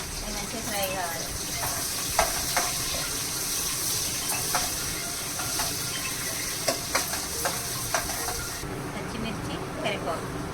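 Onions fry in a pan for a chicken and chana dal curry, giving a continuous close sizzle broken by frequent clicks and scrapes of stirring.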